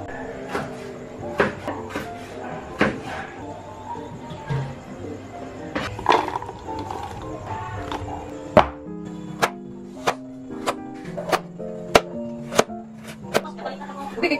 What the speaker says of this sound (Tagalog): Sunod ko ng hiniwa itong carrots.